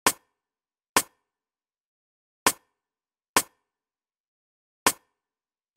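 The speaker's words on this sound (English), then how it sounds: "So next I added the drums, so I added a snare that sounds like this." A dry, crisp snare drum strikes six times alone in silence, each hit short and sharp with a quick decay, spaced unevenly.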